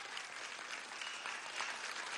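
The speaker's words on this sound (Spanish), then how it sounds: "Aplauso a Portuguesa" Applause from a crowd at a Venezuelan political rally celebrating two years of the CLAP program, greeting the governor of Portuguesa; a brief, even wash of clapping, moderately faint and continuous.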